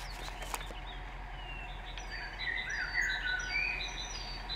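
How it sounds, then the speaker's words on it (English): Faint chirps and tweets of distant birds in the SpinTires off-road driving game, scattered high calls over a low steady engine hum, with no talking. "The birds! The birds in the distance."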